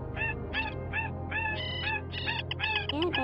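Recorded migratory bird calls used as lures for trapping birds, a series of repeated harmonic whistling calls in quick rhythm, close and clear over a low steady background hum.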